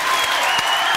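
Studio audience applauding for Muriel on a French TV variety show, a dense, steady wash of clapping that fills the whole moment without any voices.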